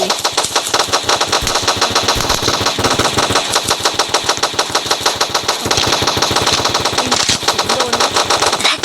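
Loud, rapid automatic fire from an AK rifle in the Roblox shooter Gun Grounds FFA, with dense, rhythmic bursts of gunshots that run almost without pause and no voices.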